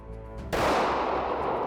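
A pistol fired at a shooting range, one sharp loud crack that cuts in suddenly and rings out with a long echoing tail across the open space, with no talking.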